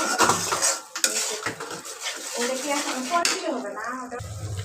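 Spices being stirred and sautéed in a pan, with quick metallic scraping and clinking of a spoon against the pan over a soft sizzle, and a brief voice partway through.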